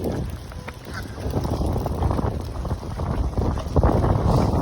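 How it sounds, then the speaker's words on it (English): Gale-force wind buffets the microphone in gusty, rumbling waves, loud and continuous, with faint sounds of a mute swan family feeding beneath. "But it's so windy. So windy."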